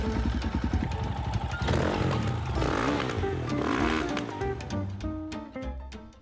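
A Bandit crossbike's 450cc engine runs close by, a loud, uneven chugging idle with brief revs and clattering bursts that fade toward the end, with no talking.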